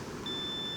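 A Minelab Nox 800 metal detector gives a single steady electronic target beep, a thin sustained tone lasting under a second, faint and alone over a quiet outdoor background.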